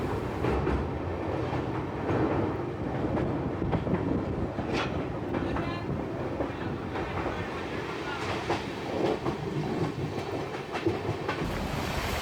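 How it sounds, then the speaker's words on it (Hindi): A Maharashtra Sampark Kranti Express rolls steadily past the Bandra Terminus–Ajmer Express while overtaking it, with a continuous loud rumble of wheels on rail, rhythmic clickety-clack and occasional sharp clanks over twelve seconds. "यहाँ पे हमारी ट्रेन ओवरटेक कर रही है अजमेर जाने वाली बांद्रा टर्मिनस अजमेर एक्सप्रेस को।"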